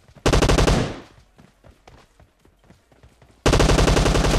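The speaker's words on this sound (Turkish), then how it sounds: "Yukarıdan bizi sıkıyorlar." Automatic gunfire from above in PUBG Mobile, with one loud rapid burst that fades out, scattered quieter shots, then another loud sustained burst.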